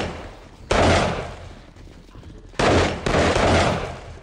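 Video game gunfire from 7 Days to Die comes in two loud, close bursts of rapid sustained shots, the second longer and broken by a brief gap, with quieter game sounds between them.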